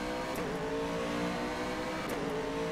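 A GTE Pro race car engine in a sim racing game holds a steady, loud, buzzing drone with smooth harmonic tones, plus two brief pitch dips from shifts or lifts.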